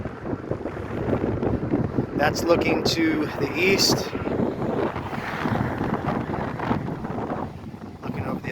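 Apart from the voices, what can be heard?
strong wind blowing into microphone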